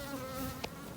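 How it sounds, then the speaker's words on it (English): A honeybee near a hive on a warm day, a faint, steady buzz from close by that lasts about a second and has a small tick partway through. "Bee's trying to check us out."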